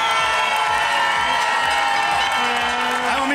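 Korčula supporters at a City Games semi-final in Kaštela, Croatia, cheering and shouting loudly as a dense crowd roar, with whoops rising above the steady din and a voice calling out near the end.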